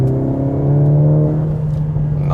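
Mercedes-AMG GLA 45 S 2021 engine floored in Sport Plus mode, a loud, steady harmonic engine roar holding for a couple of seconds with a slowly rising drone and no talk.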